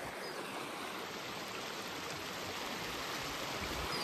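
Flowing water rushes in a constant, even wash, like a nearby stream running over rocks.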